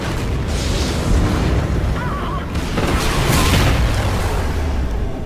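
A station blowing up in the video game Call of Duty: Ghosts, a loud, continuous rumbling blast with broadband roar and sustained crackle filling the full five seconds, with no clear pause.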